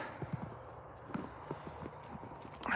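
Ranch horse hooves clip-clop in an uneven walking rhythm against a low background murmur, with a louder rustling burst near the end.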